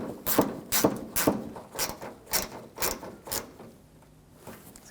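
A ratchet clicks in quick bursts as it tightens headlight assembly bolts on a 2007-2013 BMW 328i, with about eight sharp, close ratcheting strokes in an uneven rhythm before fading out.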